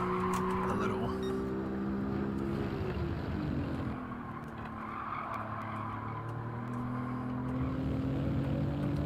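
An all-wheel-drive race car in Gran Turismo 7 revs hard under throttle, its engine note climbing and shifting through gears at close range over tire squeal, loud and continuous throughout.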